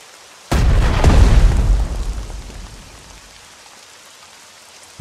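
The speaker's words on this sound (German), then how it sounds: "Artillerie." Artillery fire in the WWII strategy game Strategic Mind: Blitzkrieg during the battle of Crete, one sudden heavy boom that rumbles and slowly fades over a few seconds, loud and alone.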